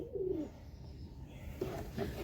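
Pigeons in a coop coo softly, one drawn-out coo at the start and a couple of shorter coos near the end, close and fairly quiet against a low background hum.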